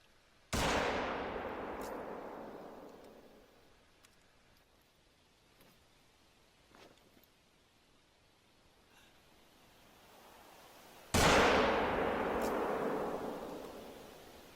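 Two loud Rangemaster .338 rifle shots in theHunter: Call of the Wild, each a sharp blast followed by a long rolling echo fading over several seconds, with quiet ambience between.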